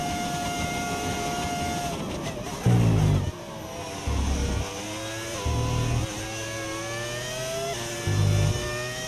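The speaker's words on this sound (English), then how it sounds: "Does your car sound like a V10? Like it has a V10 engine?" A V10 Formula 1 race car engine in the F1 25 video game screams at high revs with rising and falling pitch sweeps through gear changes, punctuated by several loud low bursts.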